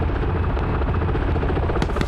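Military helicopter in a video game passing low overhead, a loud continuous rotor thump and engine roar filling the whole clip at close range, with a few sharper transients toward the end.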